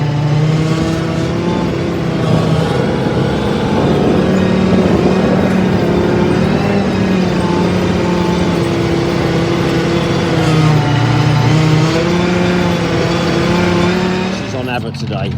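Unimog-type vehicle driven fast and rough, a steady loud engine drone with rising and falling revs throughout, close by, with voices talking over it.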